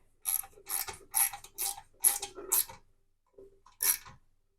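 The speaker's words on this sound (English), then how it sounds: "And tighten it up with your wrench." Ratchet wrench clicks in rapid bursts while tightening bolts on a Fitness Reality weight tree, six close ratcheting runs in quick succession, then a pause and one more run.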